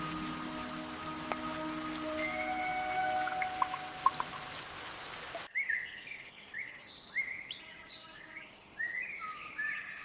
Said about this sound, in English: Rain becomes the first test